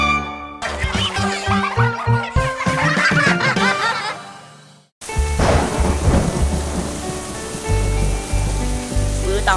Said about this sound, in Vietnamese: Mưa to ghê ha, lâu lắm rồi mới thấy mưa lớn như vậy.